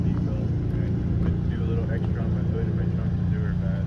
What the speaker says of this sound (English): Look at that car just leave.